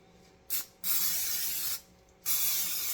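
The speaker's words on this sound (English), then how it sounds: "I'm gonna spray it down so it won't stick" Two hissing bursts of aerosol non-stick cooking spray onto a waffle iron, the first short and quick, the second longer, close by with quiet pauses around them.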